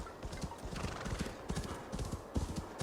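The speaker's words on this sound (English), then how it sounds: "I'm gonna call in a horse" A summoned horse in Assassin's Creed Valhalla trots with rhythmic clip-clopping hooves and neighs, the steps close and even, with faint game ambience behind them.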